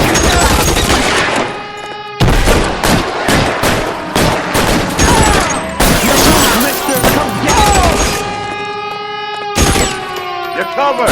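In the LA Noire game, guns fire in loud, rapid bursts, with close shots and volleys repeating through a chaotic firefight, along with crashing impacts and some voices.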